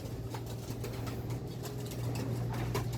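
Racing pigeon hens cooing softly in a loft, low rhythmic coos repeating under a steady background hum, faint and without talk.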